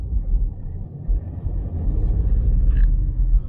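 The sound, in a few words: Volkswagen one-liter three-cylinder car engine while driving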